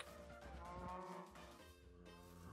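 Cows in the Minecraft video game low repeatedly in blocky, droning moos, overlapping calls from a nearby herd being moved, with no talking.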